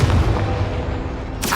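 A Confringo blast spell goes off in the Hogwarts Legacy video game, a loud booming burst with a rumbling low tail, then a second sharp crack near the end.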